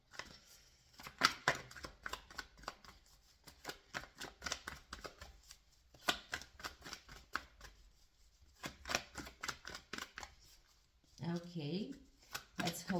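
Oracle cards are shuffled by hand in repeated quick riffling bursts with short pauses between them, close and crisp, and a voice speaks briefly near the end.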